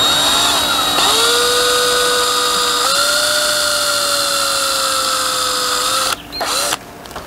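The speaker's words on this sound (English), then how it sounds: "I want to drill my hole" A loud, steady power tool whine runs continuously at an even pitch, dropping briefly near the end as it slows and restarts.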